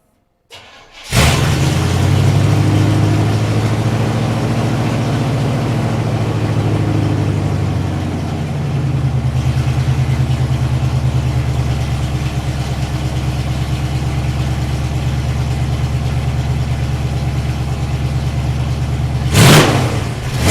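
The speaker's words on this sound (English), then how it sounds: "So that is a straight piped 350 Chevy on a K5 Blazer." A loud, raw straight-piped 350 Chevy V8 in a K5 Blazer fires up and revs hard, then settles into a deep, rumbling idle with a lumpy rhythm, close and unmuffled throughout.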